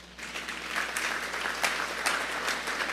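A church congregation claps steadily through a sermon, a dense, even patter of many hands that holds strong from start to finish with no voices over it.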